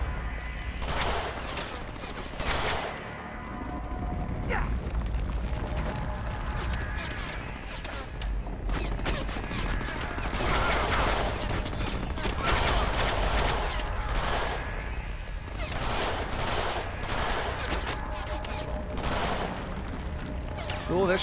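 Gunfire in the video game Deadpool comes in repeated bursts of rapid shots and crashes over a continuous loud background of game action, with no speech.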